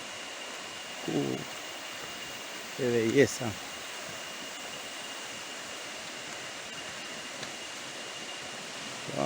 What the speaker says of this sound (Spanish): llegamos a la famosa cascada del Subí.